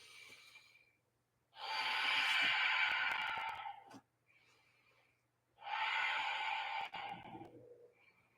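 Heavy breathing during a sunrise Hatha yoga flow: two long, loud, rushing breaths close to the ear, each lasting a couple of seconds, with quieter gaps and faint low hum between them.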